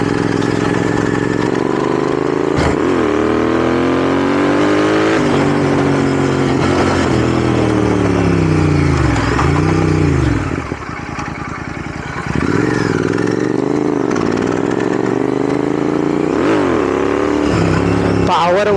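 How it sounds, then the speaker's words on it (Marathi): A 650cc cafe racer motorcycle engine revs repeatedly, its exhaust note rising and falling in loud sweeps, with a brief dip near the middle before climbing again; a voice talks over it at times. "650ला एक्झॉस्ट नोट बी मस्त आहे."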